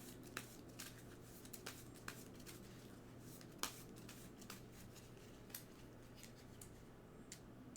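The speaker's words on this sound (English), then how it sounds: "Now we get a shuffle." Cards shuffled for a tabletop board game, a quiet run of soft riffling clicks and taps scattered irregularly over several seconds, close but faint, with no talk.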